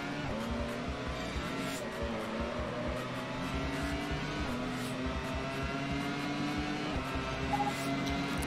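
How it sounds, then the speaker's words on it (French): A race car engine drones steadily in the Grand Prix Challenge PS2 racing game, a continuous high whine that holds and rises slightly as the car accelerates, loud and unbroken throughout. "Je plonge à l'intérieur, j'accélère plus fort."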